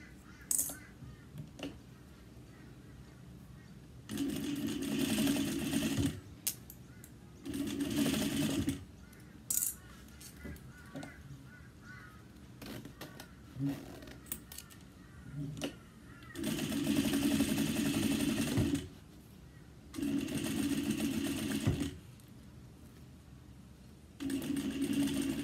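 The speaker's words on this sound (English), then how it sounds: "we're putting the zipper at the top of the fabric of the middle panel, and we're going to just baste it right on the edge" A sewing machine basts a zipper onto the edge of a fabric panel for a daypack. It runs in several bursts of a few seconds each, separated by quiet handling pauses.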